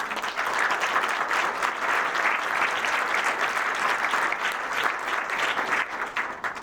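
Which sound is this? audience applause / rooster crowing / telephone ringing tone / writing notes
audience applause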